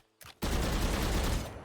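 Rapid gunfire punching through a wall in Valorant, a dense sustained burst that starts abruptly after a brief quiet lead-in and stays loud and close until it trails off at the end.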